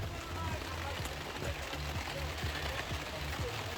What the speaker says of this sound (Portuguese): Tá chovendo agora aqui no camping,